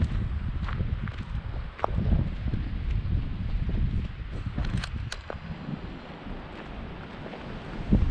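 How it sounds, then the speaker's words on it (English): Strong wind at a hilltop fort buffets the microphone in continuous rumbling gusts, with occasional rustling and footstep-like knocks, close and loud, with no speech. "but it is so windy"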